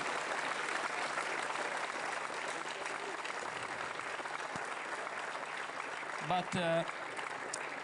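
An audience at the Vega-C rocket launch event applauds the Avio team with continuous clapping that fills the room, and a voice speaks briefly over it near the end.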